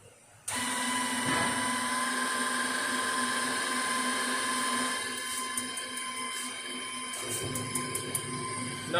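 A power tool makes a cut on the exhaust manifold of a Dodge 300C, giving a loud, steady high whine that starts abruptly and runs on, with light rattling taps toward the end.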